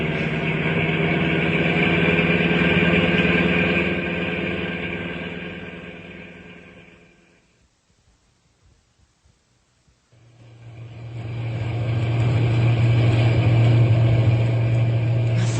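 Truck engine sound effect for an old-time radio drama: a steady, rumbling motor that fades out to near silence partway through, then returns just as strong and droning to the end.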